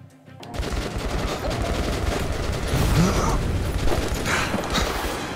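Dense, continuous gunfire from the video game Metro Last Light, with rapid overlapping shots that stay loud and steady, as if from an automatic weapon, and some mechanical clatter mixed in.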